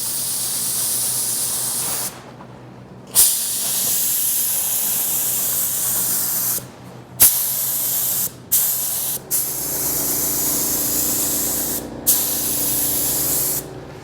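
Steady hiss of a spray gun laying down a coat of candy apple red paint over a heavy metallic base, running in long continuous passes broken by several short pauses, loud and close with no talking.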